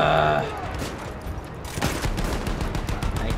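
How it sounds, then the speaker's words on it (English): Gunfire rattles in a Battlefield 1 campaign battle, a loud burst at first and then a steady spread of shots and rumbling combat noise. "Continue suppressing fire!"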